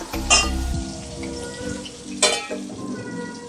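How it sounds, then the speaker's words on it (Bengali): Potatoes frying in a pan with salt and turmeric give a steady close sizzle, with a couple of brief sharper crackles or scrapes breaking through the bed of frying noise. "এবার এটা নুন আর হলুদ দিয়ে এটা আমি খুব ভালো করে ভেজে নেব।"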